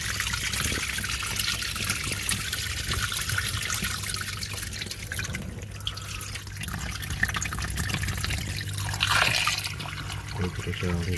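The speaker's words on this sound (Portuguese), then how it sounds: "Encher aqui isto com água" Water pours steadily into a container, a continuous trickling splash near the source that shifts in tone as it fills, with brief muffled handling noises.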